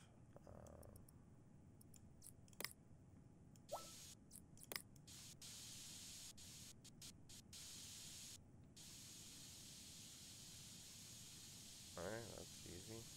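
A spray can paints a PC case red in the game PC Building Simulator 2, giving a steady broadband hiss through most of the clip, broken by short clicks and bursts, with faint speech-like sounds near the end.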